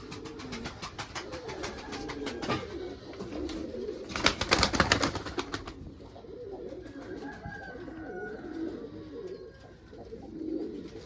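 Soft cooing and rustling wingbeats of tumbler breeding pigeons fill a quiet enclosed loft, with a short louder flutter of wings partway through.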